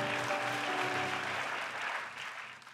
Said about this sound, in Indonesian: Kasih tepuk tangan buat firman Tuhan.